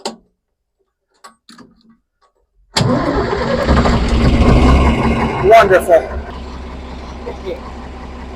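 A John Deere 5010 tractor engine cranks and catches after a near-silent pause, then settles into a loud, steady idle with a rapid ticking rhythm; a brief word is spoken over it.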